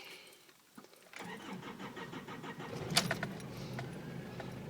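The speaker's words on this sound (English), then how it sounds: "Start the truck." Isuzu Bighorn Irmscher truck engine cranking and catching, rising from quiet into a steady close idle after a brief rattle of keys, with no talking.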